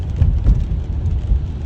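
Rain while driving a car through Peshawar, a dense, low rumbling patter with soft thuds on the vehicle, heard from inside, continuous and fairly loud.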